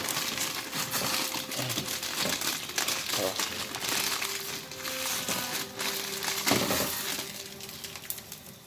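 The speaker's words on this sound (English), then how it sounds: "This is when you put in the remaining of the instant noodle." Dry instant noodles crinkle and crunch as they are dropped into a pot, a steady stream of rustling and crackling with a few small clinks, heard close.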